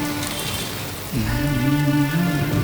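Heavy rain pours with a dense, steady hiss throughout, and a droning, wavering mechanical tone joins in about midway.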